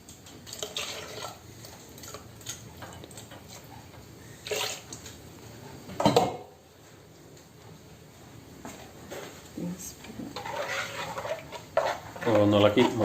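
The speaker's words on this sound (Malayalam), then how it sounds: "വെള്ളം ഒഴിച്ചു ചാറ് ആവശ്യത്തിന് നീട്ടുക" Water poured into an anchovy curry in a pan gives brief splashing and trickling bursts between quieter stretches, while a person talks nearby in a home kitchen.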